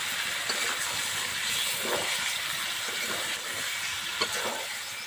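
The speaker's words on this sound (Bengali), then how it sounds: "এবারে দিয়ে দেবো জল সিদ্ধর জন্য" Water poured into a pot of goat meat seasoned with salt and turmeric, a steady rushing pour running throughout with faint splashes, close and fairly loud, no talk.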